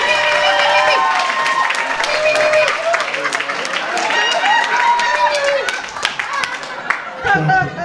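A stand-up comedy crowd breaks into loud, sustained applause with some cheering, a dense wash of clapping that runs several seconds while a voice talks over it.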